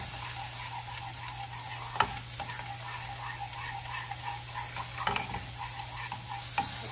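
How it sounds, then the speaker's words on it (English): Cream sauce is stirred in a pan over low heat: a steady soft hiss runs throughout, with occasional sharp utensil taps against the pan. "Stir it up and put it on a lower heat."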